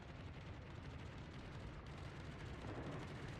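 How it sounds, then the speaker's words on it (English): Naval shellfire in the World of Warships game during a tournament grand final match, a dense low rumble of distant gun blasts and explosions rolling continuously, no talk. "More shells coming in, though."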